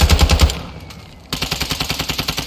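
Automatic weapon fire in Warzone 2 on Ashika Island: a loud, close, rapid burst, then a short lull, then another sustained volley of evenly spaced shots.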